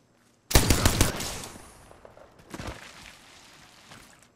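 A burst of rapid automatic gunfire in a first-person shooter game, loud and close, followed after a short gap by a second, fainter volley and some trailing clatter.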